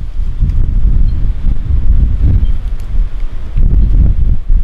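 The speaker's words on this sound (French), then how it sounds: "Vous entendez ce vent?" Strong wind gusting across an open meadow, loud rumbling buffeting against the microphone that surges and eases in waves, with faint rustling underneath.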